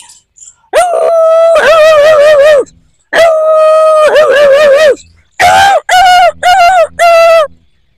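A man vocally imitates a dog, first with two long, wavering howls and then with a quick run of sharp barks and yips, all loud and close with brief silences between them.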